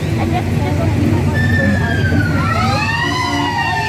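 A fire truck siren wails through a Christmas parade in New Zealand, its rising and falling tone sweeping over loud, constant crowd and street noise with voices in the background.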